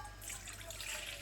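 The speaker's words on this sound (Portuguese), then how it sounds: "Vou ter que colocar mais água." Plain water trickles and splashes as it is poured into a chickpea batter for hummus, a close, quiet, continuous pour.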